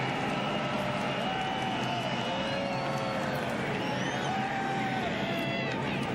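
NASCAR night race crowd at Bristol cheering for Kyle Busch, a dense, far-off roar of voices with whistles and shouts, steady and loud throughout.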